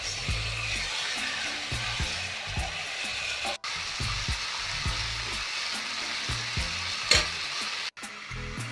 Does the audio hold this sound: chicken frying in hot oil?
yes